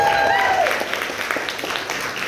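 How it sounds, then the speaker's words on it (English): Wedding guests clap for the bridesmaids, a moderate burst of applause that starts over a brief tonal sound and a voice, then thins into scattered claps. "Big round of applause for the bridesmaids"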